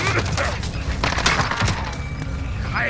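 Scattered gunfire and thuds in the battle royale game Call of Duty Warzone, crackling in the distance under a game voice and mixed with other action sounds.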